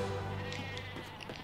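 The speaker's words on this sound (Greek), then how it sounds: "Ακούγονται πρόβατα." A sheep bleating in the video game Ratchet & Clank, a faint, wavering cry heard alone against a quiet background hum.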